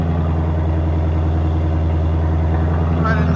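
A 2024 Ford Mustang Dark Horse with an X-pipe and resonator delete idles in a steady, loud, low rumble with an even rhythm that holds throughout, close up, with a brief voice near the end.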